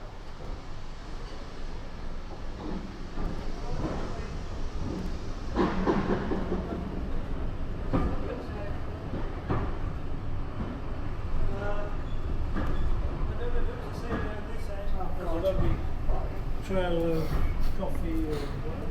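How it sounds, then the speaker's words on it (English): A steam train on the Strathspey railway in Scotland rumbles steadily along, with a constant low rolling roar, clanking and faint squeals over the full stretch. Some faint talk may sit beneath it. "I just love the sound the older trains make as they move along"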